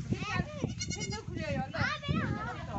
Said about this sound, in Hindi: तो यहाँ पे तो ये बकरियों के संग खेलने लग गई है